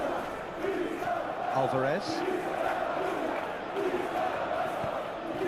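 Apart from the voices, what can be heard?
stadium crowd in PS3 football video game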